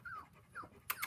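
A small puppy, one of a playful litter, lets out faint, brief whimpers: two soft rising-falling whines, then a quick sharper yip at the end, quiet and close.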